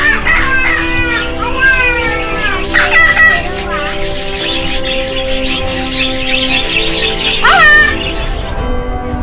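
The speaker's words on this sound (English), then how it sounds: "Sounds like there's a parrot in the vicinity." A parrot calls nearby beside a hiking trail on Madeira, sending loud, repeated squawks and harsh calls over a continuous wash of background noise.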